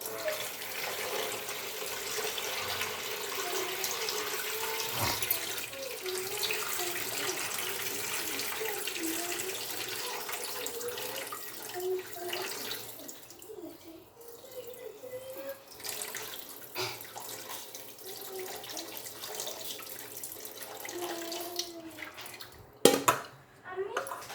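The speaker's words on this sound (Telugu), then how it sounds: "ఇంకా రవ్వలో నీళ్ళు వంపేసేయాలి." Water pours in a steady stream into semolina for a long stretch, easing off toward the end, followed by a brief clatter.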